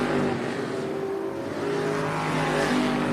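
Stock cars race around the oval at Tucson Speedway in a NASCAR weekly series event, their engines roaring steadily and loudly throughout, with a pack of cars close by and no voices.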